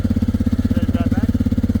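A farm vehicle's engine runs steadily during the drive back after a sunflower field tour, a loud rhythmic chugging pulse close by, with people talking over it.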